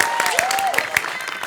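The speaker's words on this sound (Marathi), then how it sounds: "टाळ्या वाजवा त्यांच्यासाठी" Audience clapping at a Marathi comedy stage show, scattered claps mixed with crowd noise and a sliding tonal sound, fairly loud and continuous.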